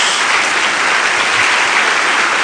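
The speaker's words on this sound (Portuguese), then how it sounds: "Dê uma salva de palmas a Jesus." A church congregation claps together in a steady, dense burst of applause, loud and close, filling the space evenly without any voices breaking through.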